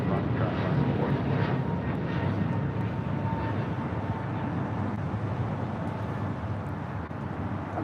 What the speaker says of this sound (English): 658 taking off to Miami on an A321neo